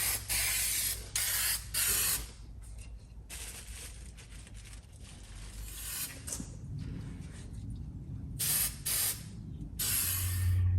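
Hammered finish spray paint goes on in light coats during a vintage Thor drill restoration, several short bursts of hissing spray separated by pauses, close and fairly loud.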